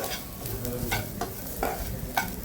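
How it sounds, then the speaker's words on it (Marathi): Turmeric, chilli powder, masala and salt fry in a little oil, a continuous close sizzle broken by several sharp scrapes of a spoon stirring against the pan. "त्यात हळद तिखट मसाला मीठ सगळं फ्राय करून घेतलं"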